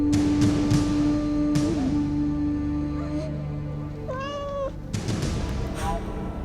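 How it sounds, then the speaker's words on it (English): A domestic cat meows in a home setting, a short rising call near the middle standing out over a steady background hum and low murmur. "habitat to one of the world's most menacing creatures, the cat."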